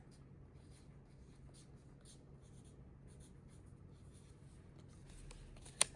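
A pen or pencil writes out the French phrase c'est la vie, a steady soft scratching that runs close and quiet throughout, with no talk and one sharp tap near the end.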